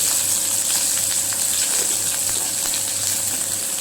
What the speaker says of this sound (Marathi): तेल गरम झालं आणि जिरे